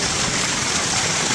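Water pours steadily from the 108 stone water spouts at the temple in Upper Mustang, a dense continuous rushing splash heard close by, with no voices.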